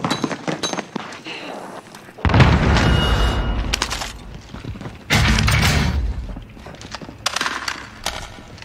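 Grenade blast in the Warzone shooter game: several loud, heavy booming bursts with rumbling decay over other game noise, with brief voice sounds in between.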